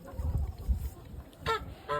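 A gander goose gives two short nasal honks close by, following some low rumbling handling noise.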